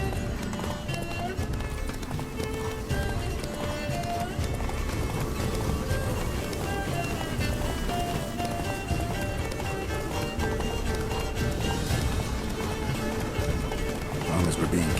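Roach the horse gallops in The Witcher 3, steady rhythmic hoofbeats pounding continuously at close range throughout, with music and a voice talking over the running.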